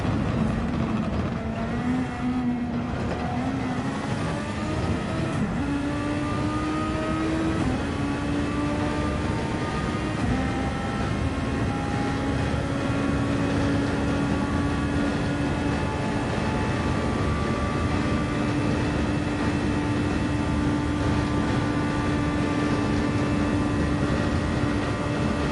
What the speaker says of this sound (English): So you can hear that beautiful Honda engine